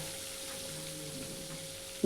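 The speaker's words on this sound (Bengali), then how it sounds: "কড়াইতে সর্ষের তেল গরম করে নিয়ে এবার একটা একটা করে মাছ আমি ভেজে নেব" Fish frying two at a time in hot mustard oil in a kitchen wok, with a steady, soft sizzle that holds evenly throughout and ends in a brief louder tap.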